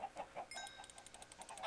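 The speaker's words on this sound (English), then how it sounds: "Some of my chickens got out." Minecraft chickens clucking in a game barnyard, a run of short, quiet, evenly spaced clucks with light chiming game sounds behind them.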